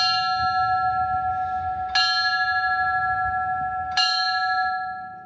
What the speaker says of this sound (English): Today started off with bells ringing at 8:46 and 10:28 a.m.